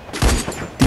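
Rapid gunfire rattles in the game Garena Free Fire, a loud close burst of several shots packed into under a second.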